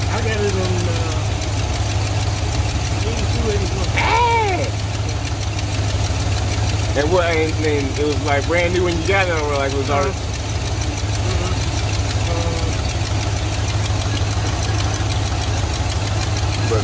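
A 1971 Buick Riviera found in a barn idles with a steady low rumble throughout, close and loud, while two people chat over it.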